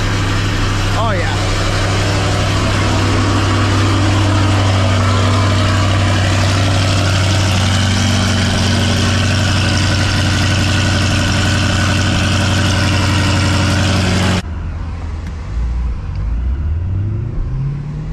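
A catless C8 Corvette idles as it warms up after sitting unstarted for about a week and a half. A loud, steady, deep engine drone runs for about fourteen seconds and then cuts to quieter rumbling, with talk over it.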